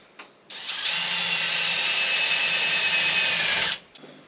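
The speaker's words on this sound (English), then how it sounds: "Basically drill a hole right in the center of that lid right there." A power drill whirs steadily for about three seconds as it bores a hole in the center of a thin jar lid, starting and stopping abruptly.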